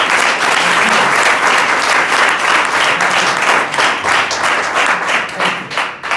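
A congregation claps loudly at a church sermon, a dense, sustained burst of hand clapping close by that carries on for several seconds before thinning near the end.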